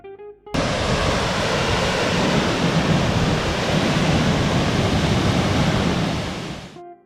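Steady, loud roar of a waterfall on a steep, spray-soaked trail in Germany's Black Forest, a dense broadband rush that starts abruptly and holds for several seconds before fading slightly at the end.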